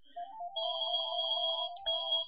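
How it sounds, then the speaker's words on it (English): Electronic phone ringtone chiming a short repeated melody, clear and close, playing alone with a brief knock near the end. "Damn, the phone's ringing."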